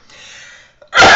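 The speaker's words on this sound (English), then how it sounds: "I'm going to sneeze." A single sharp, loud sneeze bursts out at the end, preceded by a soft, breathy voiced build-up and a brief pause.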